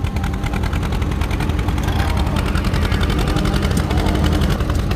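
An antique tractor engine at a county fair tractor pull puts and pops loudly and without pause, a dense rapid-fire chugging that stays close and heavy throughout.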